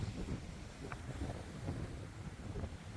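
Strong wind buffeting a microphone at a beach, a loud continuous rumbling roar with gusty swells and faint surf, no voices.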